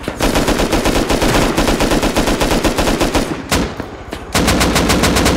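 Rapid bursts of automatic gunfire in the survival game Rust, loud and continuous, with a short break before the firing resumes.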